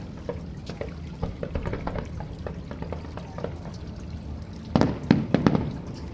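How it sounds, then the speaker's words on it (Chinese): Fireworks show watched from a 30th-floor rooftop lounge, heard as a run of distant pops and crackles that builds into a louder cluster of booming bursts near the end, with no talking. "烟花表演已经开始了。"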